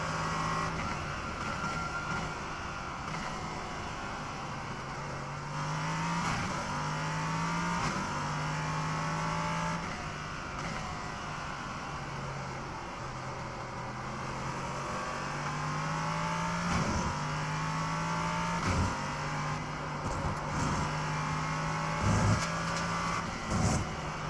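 GT4 race cars close in at Barcelona in the iRacing sim, with steady engine drone, repeated gear-change dips and revving climbs, and a sustained mechanical whine throughout.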